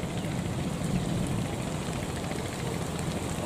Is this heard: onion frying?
no